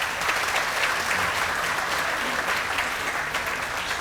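Steady, sustained applause from an audience at a polo hall of fame induction ceremony, an even crowd clapping without pause throughout, moderately loud and indoors.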